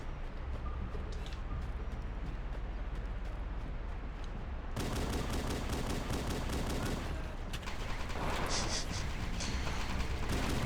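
Continuous gunfire in the Halo game aimed at a Covenant dropship, a dense crackling barrage that jumps louder midway and keeps rattling steadily to the end, with no talk over it.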